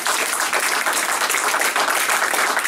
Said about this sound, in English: So, round of applause for Project 9 line.